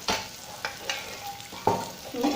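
Dal poured into hot oil with turmeric, crackling and sizzling in short bursts with spoon clinks and stirring, close up and with no talking.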